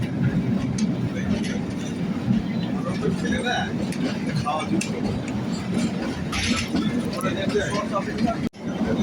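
A train runs along a hill railway near Shimla with a steady, rumbling roll and faint rattling, heard from on board, continuous and moderately loud throughout the stretch.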